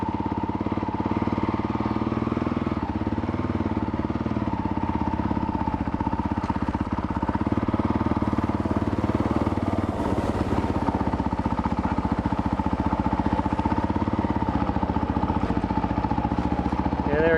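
A Honda CRF450L light adventure bike fitted with a Rekluse Radius CX auto clutch runs steadily at low speed, a continuous mid-pitched engine drone with clattery mechanical texture, close and fairly loud throughout.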